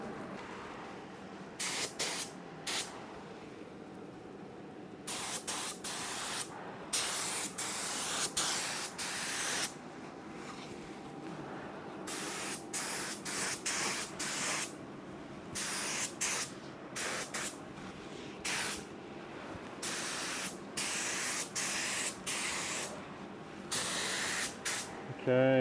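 A spray gun lays a first coat of paint on a Chevrolet S10 pickup in repeated hissing bursts of a few seconds each, with short pauses between passes. A quieter background hum runs underneath.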